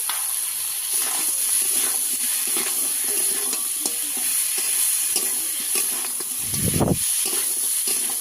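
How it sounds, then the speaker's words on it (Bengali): Crab sautéing in a pan with cumin paste and turmeric, a steady close sizzle and stirring with scraping strokes throughout, plus one brief louder low thump near the end. "দিয়ে ভালো করে কাঁকড়াটাকে কষিয়ে নেব।"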